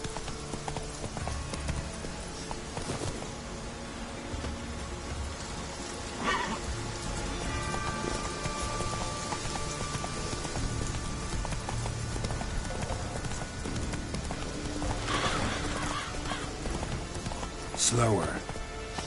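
A horse galloping in The Witcher video game gives rhythmic, steady hoofbeat clopping over a soft rain-like patter, with brief game voices heard at moments.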